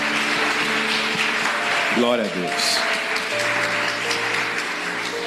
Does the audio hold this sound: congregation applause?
yes